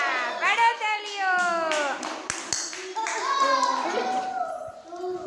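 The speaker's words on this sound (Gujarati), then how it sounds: "વાહ પાડો તાળીઓ" During a ball game, children clap in quick, bright bursts while an adult calls out encouragement and young voices chatter over the clapping.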